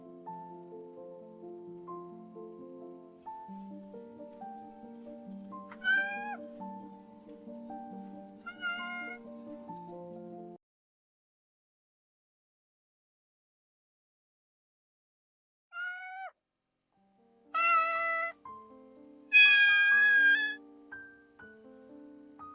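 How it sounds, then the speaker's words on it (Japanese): Several cats meow indoors in short separate calls, some faint and low, others loud and high, with a long silent gap between bursts. "さあ、にゃんこたちに手作りのおやつをあげなきゃ。"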